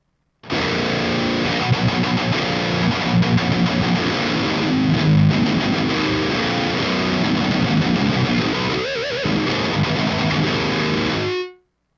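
Heavily distorted electric guitar through a Torpedo C.A.B. M+ plays loud and continuously for around eleven seconds, thick and fuzzy, then cuts off abruptly.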